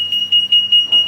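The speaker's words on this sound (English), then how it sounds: "will trigger the alarm." An EAS anti-theft alarm system (WT-9200) sounds in a shop-style setting, a steady high electronic tone pulsing in a fast regular beeping rhythm, loud and close, with no talk over it.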